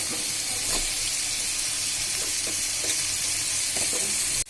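Pointed gourd and potatoes with spices being stirred in a frying pan, a steady sizzling hiss with repeated soft scraping strokes of the spoon throughout, close and continuous.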